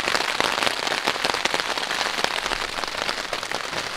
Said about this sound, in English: The rain showed up just like I thought.